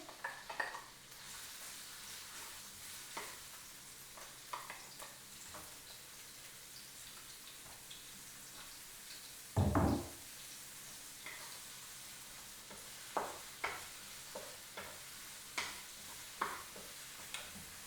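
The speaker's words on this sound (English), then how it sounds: "We will then add the onion, chopped onion." Chopped onion drops into a hot pan with a loud burst of sizzling, then settles into a quieter steady fry broken by occasional stirring ticks and scrapes.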